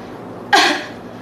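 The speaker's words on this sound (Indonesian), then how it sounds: "Pernah tak kita batuk sampai sakit perut?" A single short, breathy cough, close and fairly loud, against a low steady background hiss.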